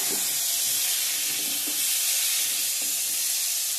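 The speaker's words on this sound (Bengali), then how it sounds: "এখন ডালটা দিয়ে দেবো।" Masoor lentils go into a pan of hot oil with fried drumsticks, tomato and turmeric, giving a steady close sizzle with faint stirring taps throughout, no talking.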